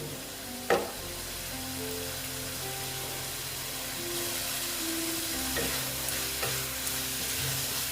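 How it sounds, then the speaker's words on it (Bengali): Fried pointed gourd stirred in a pan, a steady close sizzle broken by a sharp spatula knock early on and a few later scrapes, the frying growing slightly louder partway through. "ভেজে রাখা পটলগুলো দিয়ে দিলাম দিয়ে এগুলোকে আমি ভালো মতন এটার সঙ্গে কষিয়ে নেব"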